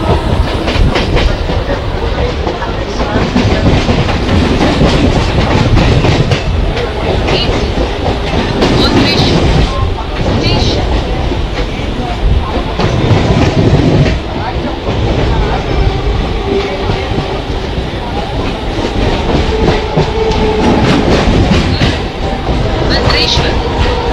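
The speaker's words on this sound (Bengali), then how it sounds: "এই ভদ্রেশ্বর স্টেশনে আমাদের এসে দাঁড়িয়েছে ট্রেন" A train pulls into Bhadreswar station, heard loud and close as a dense rumbling roar with rhythmic wheel clatter over the rails that runs steadily throughout, with a voice speaking faintly beneath the noise.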